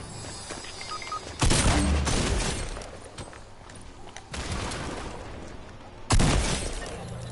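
Grenade launcher fire in a video game: three loud blasts spaced a few seconds apart, each a sharp burst that rings out into a decaying rumble of debris and crackle.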